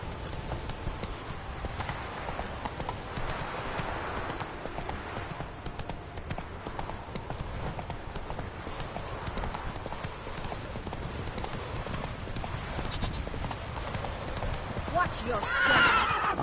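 Roach the horse from The Witcher 3 gallops with continuous rapid hoofbeats, joined by neighing, as voices talk over the game sound.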